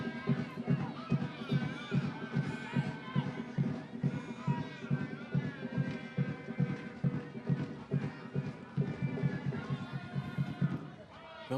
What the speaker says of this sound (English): so they're starting to sing and drum and make a bit more noise